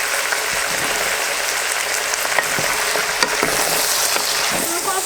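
Poultry lardons frying in a pan make a dense, steady sizzle with scattered crackles and occasional stirring clicks, close and consistent throughout, with no voices.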